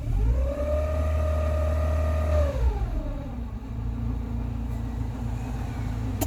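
A Rover 45 Impression S3 with a CVT gearbox, suspected of worn bearings, idles with a close, steady low rumble. A whining tone holds, then falls away partway through, leaving the deep engine drone alone.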